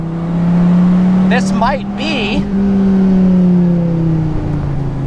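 A Dodge Viper's 8.4-liter V10 engine drones steadily at a low pitch on a track, loud and sustained, while someone talks over it.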